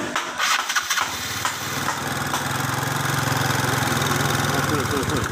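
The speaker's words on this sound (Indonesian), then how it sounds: "Oke, sekarang untuk motor sudah hidup." A Yamaha Mio Sporty scooter engine cranks and catches, then settles into a steady, close idle with a buzzing rumble.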